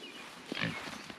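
Pigs on a small farm grunt while being fed bread treats, a short burst of snorting grunts up close over a steady outdoor background.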